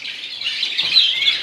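Canaries and mule birds chirp and call steadily in an indoor bird room, a dense bright twittering chorus of several birds that carries on without pause.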